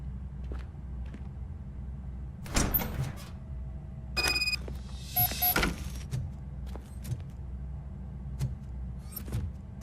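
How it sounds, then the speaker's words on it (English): In the RoboCop: Rogue City video game, a door is worked open amid mechanical clunks, whirring servo sweeps and bright metallic clanks over a low steady room hum, with several separate bursts spread across the stretch. "Now let me get that door open for you."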